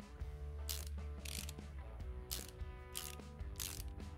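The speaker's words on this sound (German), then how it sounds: "Dann schrauben wir jetzt erstmal den Deckel drauf." A ratchet clicks in quick bursts while screwing a cover on in Car Mechanic Simulator 2018, about five short mechanical ratcheting runs over a low steady hum, fairly quiet.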